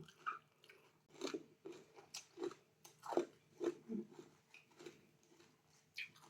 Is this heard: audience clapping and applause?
no